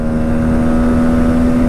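A Bajaj Pulsar NS200 2024 facelift motorcycle is ridden hard in fifth gear near top speed, giving a loud, steady, close engine drone with no talk.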